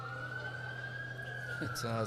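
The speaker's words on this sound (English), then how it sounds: "we've got sirens in the background again. This time it's a fire truck." A fire truck siren wails in the background at a vision-impaired tennis singles final, a steady rising tone that is distant but clear, with a voice talking over it near the end.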